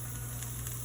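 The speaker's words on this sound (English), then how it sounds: "You can hear it starting to sizzle away." Beef and broccoli sautéing in a little oil over high heat, giving a steady, close sizzle with a constant hiss throughout and no talking.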